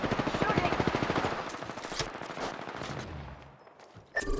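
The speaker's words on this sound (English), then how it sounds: "Shooting!" Rapid automatic gunfire from a weapon in the video game Apex Legends rattles out in loud, tightly spaced bursts, then thins into scattered shots near the end.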